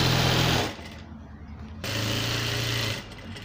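Sewing machine stitching down a hem with crinoline, two close buzzing stitching runs separated by a short pause.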